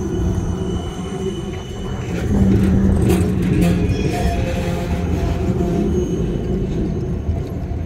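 A long tram rolls along an Amsterdam street, a steady low rumble that swells a little past the midpoint and holds, with faint wheel and rail noise in the busy city air.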